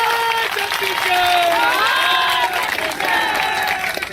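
A crowd at a protest rally over the Hasdeo forest in Chhattisgarh claps loudly and shouts, with a voice speaking over the noise throughout.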